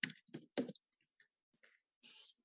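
Typing on a computer keyboard, a few close, sharp clicks at first, then sparse quieter taps and a brief soft rattle.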